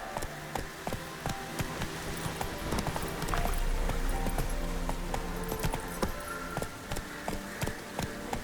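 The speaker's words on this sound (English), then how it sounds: "Run, Roach." Hooves of a horse galloping in The Witcher 3 strike in a quick, steady rhythm, fairly close and clear, over a low game ambience with no talk.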